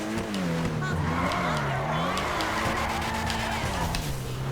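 Ubermacht Zion Classic drifting at high speed in GTA Online, its engine droning steadily with a wavering pitch while tires squeal and skid continuously.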